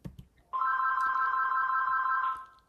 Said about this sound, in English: pick up the phone, Jim.